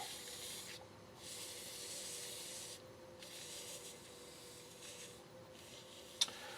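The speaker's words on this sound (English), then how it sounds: "And I am doing some microfiber sanding." A shaving brush handle gets microfiber sanding, a quiet, close rubbing hiss in several strokes with short gaps between them, over a faint steady hum, ending with one small sharp tick.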